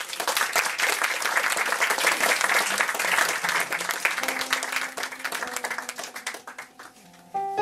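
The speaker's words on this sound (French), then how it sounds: "On l'applaudit s'il vous plaît." Sustained audience applause at a French-language evening poetry reading, a dense wash of clapping that holds steady and then thins, with a few tonal sounds entering near the end.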